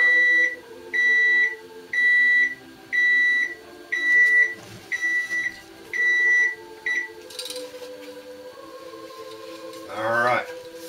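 A kitchen minute timer beeps in a steady run of about eight evenly spaced electronic tones, fairly loud and close, then stops and a brief rustle follows.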